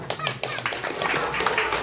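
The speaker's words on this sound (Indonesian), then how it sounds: "Tepuk tangan." A group claps hands in quick uneven bursts while voices talk over the clapping.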